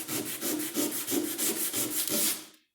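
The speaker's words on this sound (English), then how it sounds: "I used 80 grit to get it down, and then I'll take a 120 to it" Car body panel on a rat rod being sanded by hand with 80 grit sandpaper, a loud close rhythmic rasping of about nine even back-and-forth strokes before stopping.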